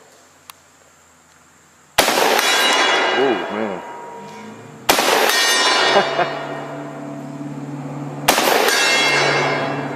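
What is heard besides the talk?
Benelli M2 12 gauge shotgun shots hitting steel gong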